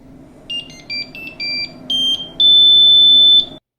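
An Anycubic Mega S 3D printer's startup beeper plays a short tune of several stepped tones, ending in a long sustained high beep, loud and shrill over faint background hum.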